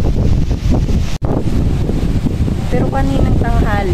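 Strong wind from Typhoon Enteng gusting through Hong Kong: a continuous, loud, buffeting roar across the microphone, with a brief dropout, and a voice talking over it.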